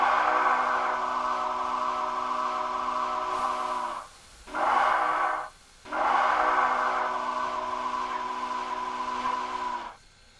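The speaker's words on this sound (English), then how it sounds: "I love that SB3 chime." A Southern Pacific GS-4 steam locomotive's SB3 chime whistle in Train Simulator 2017 sounds three loud sustained blasts, a long one, a short one and a long one, with no talk.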